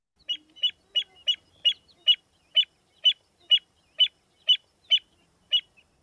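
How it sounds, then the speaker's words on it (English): American avocet giving a series of about thirteen sharp pleeking calls, evenly spaced and clear, with no other sound between them. "So here's that pleeking call again."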